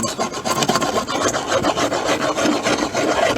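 A rasp scrapes excess material off a rattan sword in fast, uneven back-and-forth strokes, close and gritty, a continuous run of dry rubbing with no talking.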